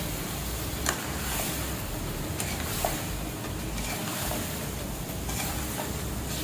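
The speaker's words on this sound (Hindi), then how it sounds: "अब बस मैं बैंगन भी डाल देती हूँ," Eggplant frying in a pan, a steady, even sizzle that fills the whole stretch, with a few faint clicks and stirring touches.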